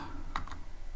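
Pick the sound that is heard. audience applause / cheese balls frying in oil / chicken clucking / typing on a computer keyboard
typing on a computer keyboard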